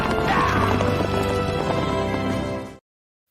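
Horses trot with a loud, dense clip-clop of hooves, whinnying over the steady rhythm before the sound cuts off abruptly.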